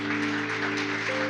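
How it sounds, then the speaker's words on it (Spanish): A church congregation applauds during a worship service, a dense, steady clatter of clapping heard under sustained keyboard chords that hold throughout. "Dale un fuerte aplauso ahí al Señor."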